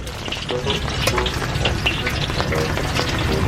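Chicken or fish fries with a steady, loud crackling sizzle, occasionally stirred, close by and continuous throughout.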